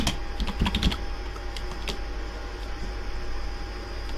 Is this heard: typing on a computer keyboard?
yes